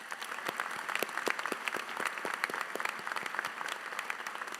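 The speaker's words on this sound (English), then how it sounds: "Please give them a round of applause." Audience applause at a winter graduation commencement ceremony, scattered individual claps standing out within a moderate crowd, steady and somewhat distant, with no voices over it.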